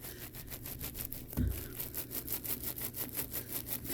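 Wet wool being rubbed with soapy water during felting, a steady rhythmic swishing rub repeating about four times a second, close and fairly quiet, with one brief louder bump midway.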